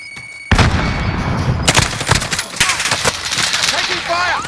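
Rapid bursts of gunfire crackle through a shooter video game, starting abruptly and continuing densely with sharp shot transients, while players talk over the action.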